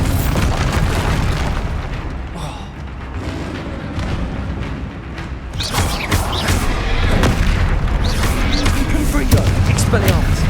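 Heavy magical spell blasts and booming impacts rumble continuously during a troll fight in Hogwarts Legacy, with spoken spell names and dense game noise throughout.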